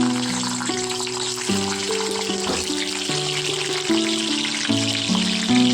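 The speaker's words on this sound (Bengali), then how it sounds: "মশলা বেগুন করার জন্য গরম তেলে প্রথমে বেগুনগুলো ছেড়ে দিতে হবে।" Eggplant pieces frying in hot oil for spiced baingan masala, a steady close sizzle with no voices, while musical tones play through much of it.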